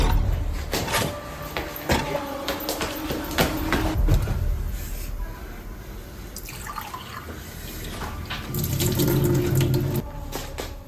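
Water is poured into a drinking glass, a wet trickling and splashing with small drips and a few sharp clinks, fairly close and continuous.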